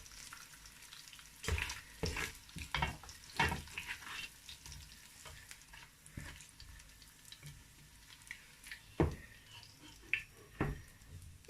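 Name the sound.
onions frying in oil for jollof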